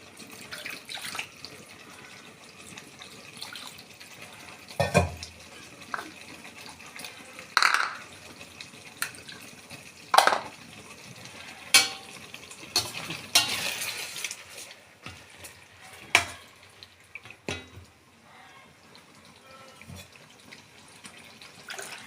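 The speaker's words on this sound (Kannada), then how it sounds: "ಕುದಿ ಬಂದು ನೋಡಿ" A pot of liquid for chicken Manchurian bubbles at a boil, giving steady watery gurgling broken by scattered splashes and a few light clinks of a utensil against the pot, close by with no talking.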